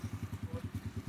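A motorcycle engine idling nearby, its low thumping exhaust pulses beating in a steady, fast rhythm, close and fairly loud with no talking over it.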